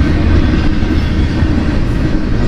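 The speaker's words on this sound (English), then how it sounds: "Focus on the train, Kevin." A BNSF freight train rolls past in Clovis, New Mexico, a loud, steady low rumble of wheels and rail cars with faint clickety-clack, sustained throughout without pauses.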